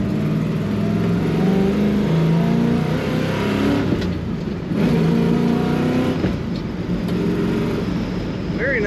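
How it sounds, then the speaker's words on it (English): A 1967 Chevrolet Camaro RS accelerating on the road, heard from inside the cabin as a steady, loud engine drone that climbs in pitch with a brief shift partway through, under low road and wind noise. "Very nice acceleration and throttle response."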